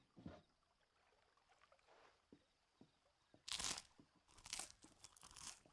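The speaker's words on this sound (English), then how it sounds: "Crunchy bread, cheese." Crunchy bread and cheese are eaten in Final Fantasy XVI, with faint crisp crunching bites at first, then louder crackling bursts near the end, heard alone without talk.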